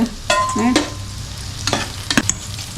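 Tomatoes and rice fry in a pan for a methi pulav with fenugreek leaves. A soft sizzle runs underneath several sharp scraping stirs of a spoon against the pan, with a few quick clinks near the end.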